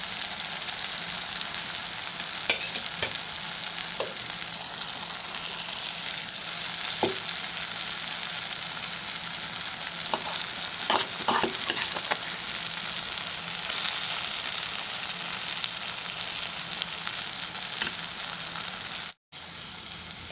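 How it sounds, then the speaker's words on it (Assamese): Potatoes fry with moringa leaves in a pan, giving a steady close sizzle for about twenty seconds, broken by a few scraping stirs and clinks. The sizzle cuts out briefly near the end. Nobody speaks. "এয়া এনেকৈ ভাজি লোৱাৰ পাছত আলুবোৰ দি ভাজি ল'লোঁ।"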